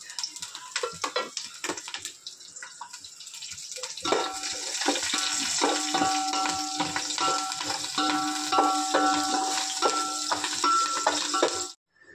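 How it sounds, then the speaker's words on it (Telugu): Bay leaf, biryani flower, whole spices, onion and green chili are tossed into hot oil for egg biryani and sizzle loudly and steadily, with stirring clatter; quieter handling noises come before the frying starts. "దీన్ని ఇందులో మనం ఇప్పుడు ఫ్రై చేయడానికి వేసేస్తాం అన్నమాట."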